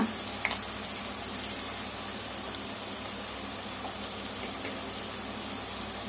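Spices frying on low heat in a pan for capsicum rice: a steady, even crackling sizzle, close and continuous, alone without talk.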